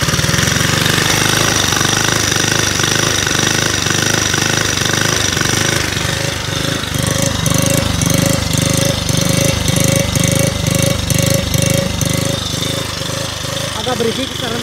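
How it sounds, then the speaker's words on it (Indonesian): A fuel-injected 115 cc Honda Beat scooter engine runs steadily and close, with a loud, rough rattle from a noisy CVT transmission and a faster clattering pulse in the second half. Voices talk over it. "Ini berisik tuh karena CVT-nya"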